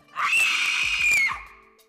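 Loud, piercing human scream from a seated listener's close range, rising sharply, holding for about a second with a strained tonal edge, then cutting off, with faint low thumps underneath.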